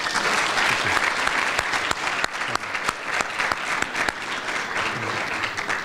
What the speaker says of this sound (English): could we have another round of applause just for all of our nominees and award winners tonight?